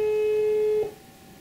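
Telephone tone on a call, a single steady electronic beep held for most of the moment and then cut off abruptly, leaving a faint hiss of line noise.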